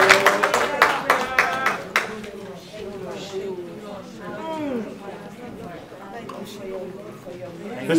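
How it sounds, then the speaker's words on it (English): A church congregation claps together in a loud burst of rapid hand claps for about two seconds, then fades into murmuring voices and singing. "Give God a clap offering."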